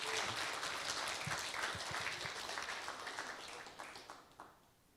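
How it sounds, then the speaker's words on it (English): An audience at a speaking event on a Seattle tour stop applauds steadily, a dense wash of clapping from a large crowd that gradually fades toward the end. "So you can applaud."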